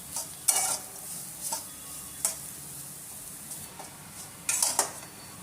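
Potato pieces fry in a pan with chaat masala, chilli powder and cumin powder, giving a low, even sizzle broken by scattered light clicks and scrapes of a spoon stirring against the metal.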